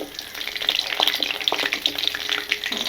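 Green chilies, garlic cloves and dried red chilies sautéing in hot oil for a peanut chutney, giving a steady close crackling sizzle with small bursts and light stirring throughout, no voices.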